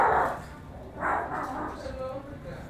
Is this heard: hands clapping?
no